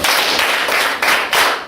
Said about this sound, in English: can I hear 5 loud claps?